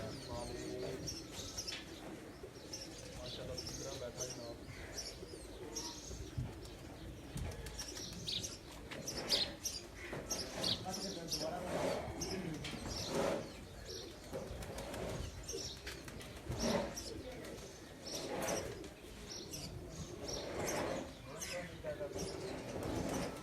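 Pigeons settle onto a perch one after another during a pigeon-flying session, wings flapping in busy bursts between soft cooing and chirps, with voices talking in the background throughout.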